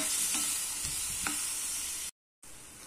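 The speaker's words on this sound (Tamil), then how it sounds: "அதை சேர்த்துட்டு தக்காளி வதங்க மட்டும் கொஞ்சமான உப்பு சேர்த்துட்டு இது தக்காளி நல்லா வதக்கி எடுத்துக்கலாம்" Small tomatoes with a little salt sautéing in a pan for tomato kuzhambu: a quiet, steady sizzle broken by a few spoon scrapes and stirs, close by and unaccompanied, cut by a brief silence near the end.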